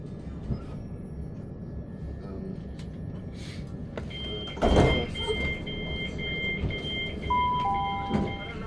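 A Southern commuter train stands at Queens Road Peckham station, with a steady rumble, a loud clunk of doors near the middle, and electronic beeping tones toward the end.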